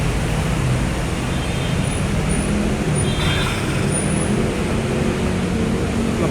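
An MRT elevated train rolls past above busy road traffic, a faint brake-like squeal and whoosh rising midway over the constant roadway rumble, no talk.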